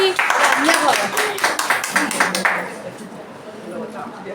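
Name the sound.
loud applause at a women's day felicitation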